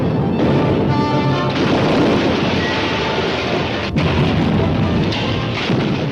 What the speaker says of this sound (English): brought it down with a terrific explosion